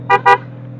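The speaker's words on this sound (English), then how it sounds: "Still got a car horn on it." A motorcycle's car-type horn gives two short, loud honks in quick succession over a steady engine hum.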